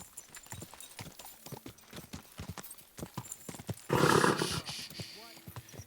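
Horse hooves clip-clop steadily in Kingdom Come: Deliverance II, close and rhythmic, with a louder, denser burst of noise partway through and brief voices nearby.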